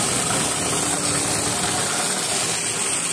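A repaired power sprayer motor runs steadily after being plugged in, a loud continuous mechanical whir with a rattling, ratchet-like texture that holds constant throughout, with no talking.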